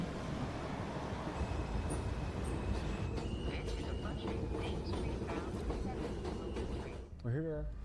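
A New York City subway train rumbles steadily at Court Square Station with broadband rail noise and faint metallic squeals, a voice speaking over it near the end.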